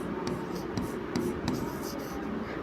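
Hand-writing Hindi maths equations for a Class 10 lesson: a pen scratches steadily across paper with a few sharper strokes, close and moderately loud over a low room hum, with no speech.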